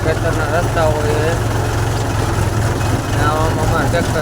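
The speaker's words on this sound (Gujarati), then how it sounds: "આવામાં અમારે ટ્રેક્ટર ચલાવવું પડે." A tractor engine idles and runs with a steady low rumble on a rough, muddy farm road, continuous throughout, with faint voices over it.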